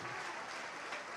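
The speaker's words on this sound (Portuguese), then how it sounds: "aplaudir." Church congregation applauding during a Portuguese-language worship service, a steady wash of many hands clapping at moderate, fairly distant level, alone without talk for a brief moment.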